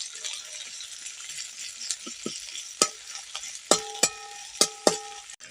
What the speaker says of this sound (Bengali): পেঁয়াজ রসুনটাকে একটু হাফ ভেজে নেব।